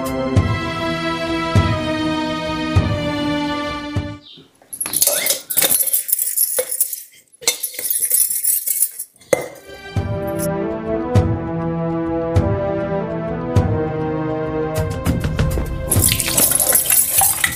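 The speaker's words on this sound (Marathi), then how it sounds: "भांडी धुते ना." Dishes being washed at a sink: clinking utensils and running water in bursts, with stretches of background music.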